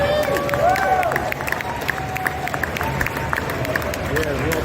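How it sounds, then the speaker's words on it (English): An audience at a Miami NFT Week event applauds Timbaland, with loud clapping, cheers and a few whistles. Crowd chatter runs underneath throughout. "huge round of applause for Timberland"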